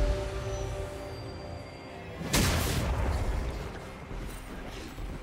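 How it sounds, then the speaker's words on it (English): A turret collapsing in League of Legends gives a sudden heavy boom with a crashing burst that decays over a couple of seconds amid game ambience. "Red team's turret has been destroyed."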